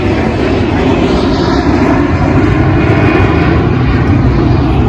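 An airplane roars past near an airport, a loud, broad, steady engine rumble that fills the whole stretch close overhead.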